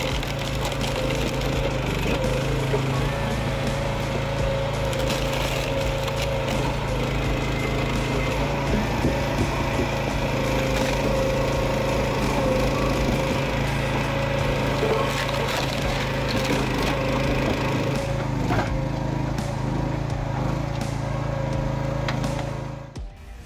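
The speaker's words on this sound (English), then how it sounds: "Seeing the PME firewood processor in action, I was truly impressed by the advancedness and class of this technology." A PME firewood processor runs steadily and loudly throughout, with engine drone and a continuous stream of cracking, splintering wood as logs are split, ending abruptly.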